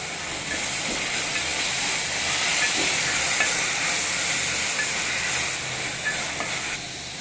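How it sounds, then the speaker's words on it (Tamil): Tomatoes and mint sizzle loudly and steadily in a hot pan for beetroot pulao, with faint stirring scrapes and no talking. "இப்போ நம்ம இது கூட புதினாவை ஆட் பண்ணி நல்லா கிளறி விட்டுக்கலாம்."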